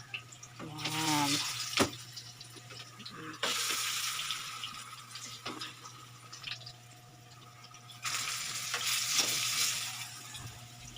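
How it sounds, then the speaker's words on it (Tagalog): Banana slices frying in oil give off a soft, continuous sizzle that swells and eases over several stretches, with clinks of utensils and a voice talking quietly at times. "magprito tayo ngayon ng saging"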